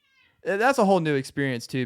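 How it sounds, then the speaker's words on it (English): An irritated house cat meows loudly and close by in a few quick, whiny calls, while a person talks at the same time. "that is the cat. I think the cat's a little mad right now."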